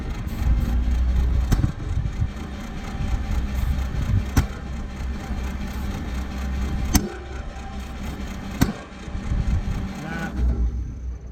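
A 1947 GMC EC303 truck engine cranks repeatedly without catching, a low churning rumble broken by a few sharp clicks and knocks, close by and fading out at the end.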